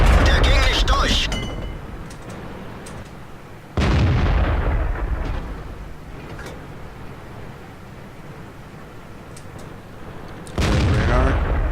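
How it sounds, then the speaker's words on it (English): Artillery fire in a tank video game comes as two heavy, loud booms with long rumbling decays, spaced several seconds apart, with a player talking faintly between them. "Yeah, they have artillery."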